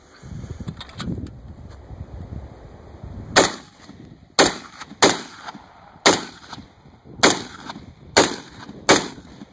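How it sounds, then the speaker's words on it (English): A CETME HK 91 rifle firing 147 grain loads outdoors cracks off seven sharp, loud shots at a steady pace, each with a short echoing tail, after a quiet stretch with faint rustling. "this gun is a little bit milder shooting with that 147 grain load"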